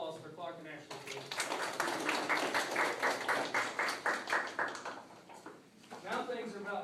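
Audience applause at an immunology class presentation on vaccines, a steady wash of clapping that rises and holds for several seconds, fades, then swells again near the end, with talk underneath.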